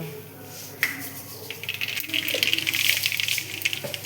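Fenugreek and mustard seeds drop into hot cooking oil in a pan, setting off a close crackling sizzle that builds into dense popping and spattering.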